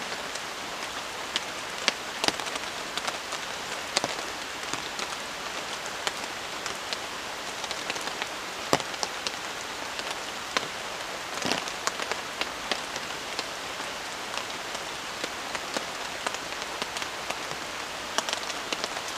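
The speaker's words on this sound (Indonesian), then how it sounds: "Jadi cuaca hujan seperti ini tuh enak banget ya" Heavy rain falls in a forest at a solo overnight campsite, a dense steady hiss with scattered louder drops striking nearby surfaces, continuous with no voices.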